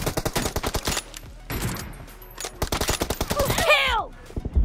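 Rapid bursts of PUBG Mobile gunfire, loud and close, with a pause in the middle, then more M24 sniper shots and a sharp descending electronic effect; a voice speaks over it.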